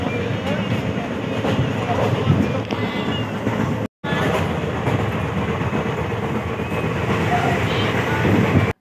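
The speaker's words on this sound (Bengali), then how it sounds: "ভুবনেশ্বরের দিকে ছুটন্ত এই ট্রেন" A train rolls toward Bhubaneswar on an India rail journey, its steady rumble and clickety-clack running loud and continuous, broken once by a brief dropout before carrying on.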